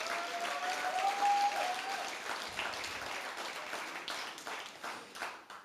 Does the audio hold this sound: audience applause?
yes